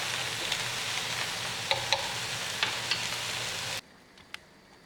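Vegetables for a spaghetti squash dish sizzle steadily in a pan, a close, even crackling hiss with a few light stirring clicks, cutting off abruptly near the end to near silence.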